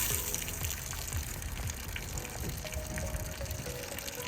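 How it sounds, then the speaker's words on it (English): Water gushes steadily from the low point drains of an RV being winterized, a constant near splashing flow heard alone. "So we are going to start draining our water here."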